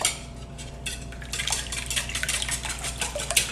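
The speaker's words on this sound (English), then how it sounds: "So we're going to whisk them together." Eggs whisked with herbs for a frittata, a quick steady clatter of a whisk against a bowl, close and busy, gaining pace after the first second with no talk.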